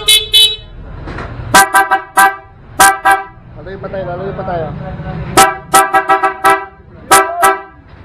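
Several loud car horn honks in short bursts, some in quick doubles, with people talking between and under them; a newly wired Nelson horn.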